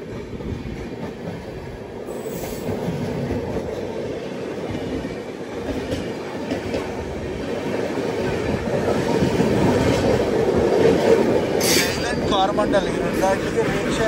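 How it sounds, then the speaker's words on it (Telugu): A MEMU passenger train on the Rajahmundry–Visakhapatnam line pulls away and runs on, a steady loud rumble of wheels with clickety-clack and faint squeals, while people talk in the background. "ఆ బండి ఇలా వచ్చింది, మన బండి అయితే బయలుదేరింది."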